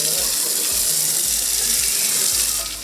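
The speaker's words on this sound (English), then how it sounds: "the water automatically runs from the taps" Water runs steadily from taps at a community water dispenser in Kenya, a continuous loud splashing gush with faint low thumps underneath.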